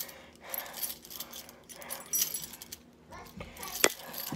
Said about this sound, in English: Let me get my keys out.